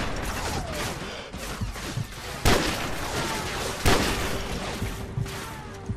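Gunfire in Call of Duty 4: Modern Warfare, with rapid bursts of shots and two sharp loud blasts standing out amid continuous battle noise, mechanical clatter and thuds throughout.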